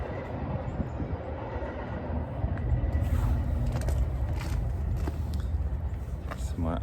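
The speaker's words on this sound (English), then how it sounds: "There's a train in the background." A train rumbles past in the background during winter, a low continuous rolling roar with faint rail clatter that swells midway, while a person talks over it outdoors.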